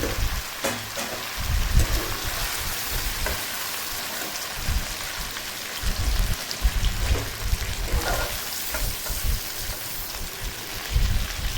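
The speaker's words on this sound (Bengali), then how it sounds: "আলুগুলো বেশ লালচে লালচে করে ভেজে নিয়েছি" Potatoes frying in hot oil in a pan for Bengali mutton kosha, a steady broadband sizzle and crackle with bursts of popping, close and continuous with no talk.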